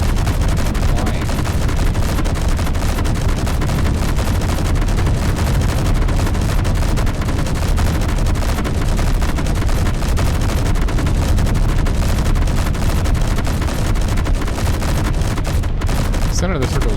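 Ships trade sustained gunfire in the Space Engineers video game, a dense, continuous roar of rapid shots and rumbling impacts that never lets up.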